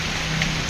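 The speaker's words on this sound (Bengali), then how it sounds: "প্রচুর জোরে কিন্তু আজকে বৃষ্টি হচ্ছে, দেখতে পাচ্ছেন।" Heavy rain falls at night on a town street, a dense, steady hiss of drops close by with no pauses.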